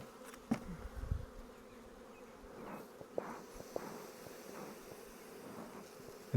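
A steady buzz of honey bees rises from an open hive during an inspection, close and continuous with a few sharp clicks of frames being handled.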